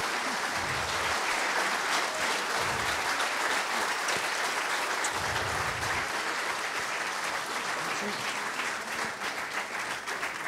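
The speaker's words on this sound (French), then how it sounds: "On peut les applaudir bien sûr" Sustained applause from an audience honouring trophy winners at a company jubilee celebration, a dense, even wash of clapping that continues throughout without pause.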